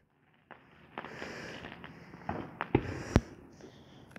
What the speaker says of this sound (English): There's fireworks way over there.